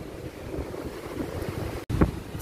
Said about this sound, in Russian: В ветреную погоду море особенно красивое, такие яркие, сочные, голубые тона, приливаются волны на солнце